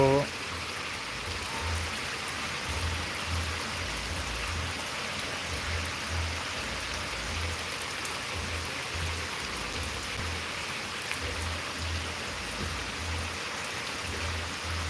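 Heavy rain falls without letup, a dense, loud wash of hissing water over a low rumble, steady and near for the whole stretch.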